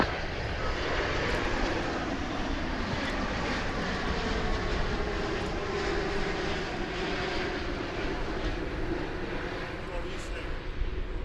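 An airliner arriving at Dallas Fort Worth on a flight from Paris Charles de Gaulle gives a broad, steady jet engine rumble and rushing roar at moderate distance, with people talking over it.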